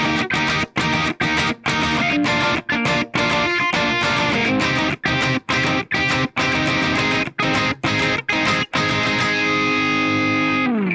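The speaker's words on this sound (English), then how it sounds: "So that intro guitar riff, that main guitar, is gonna sound like this." Distorted electric guitar intro riff of a song played with choppy rhythmic stops, loud and driving, ending on a sustained ringing chord.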